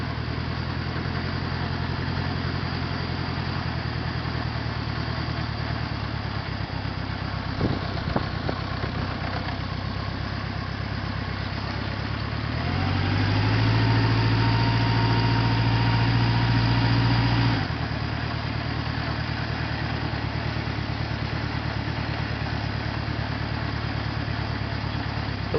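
A 1977 Honda CB750A Hondamatic motorcycle engine runs steadily while riding in top gear, a continuous mid-low drone that swells louder and deeper for several seconds as it accelerates, then settles back, with no talking.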